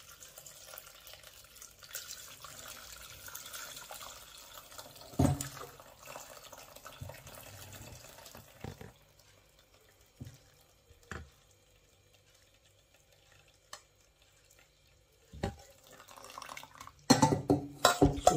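Fish stock pours and trickles through a chinois sieve into a pot, with occasional clinks of metal utensils and quiet pauses between the pours.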